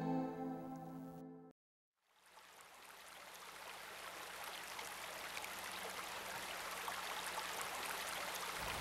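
The Lackawanna River flowing, a steady broadband rush of moving water heard alone and continuous after a brief silence.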